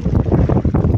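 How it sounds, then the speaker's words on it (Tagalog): Loud, steady wind buffeting the microphone with rough gusts, along with heavy rain and weather noise on the water during fishing; no clear voices. "kasi malakas yung hangin at ulan"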